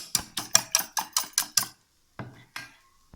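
Eggs beaten with salt in a bowl for a capsicum omelette, a quick run of about eight rhythmic clinking whisk strokes, then a pause and a couple of softer scrapes, close and alone.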